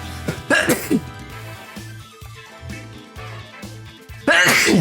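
A sudden sneeze bursts out near the end after a couple of short throaty exhalations, over steady music in the background.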